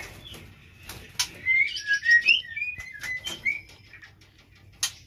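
A Rejegayu songbird, a former field-caught bird, sings a run of bright whistled notes and chirps at close range, with brief clicks and rustles in a quiet setting.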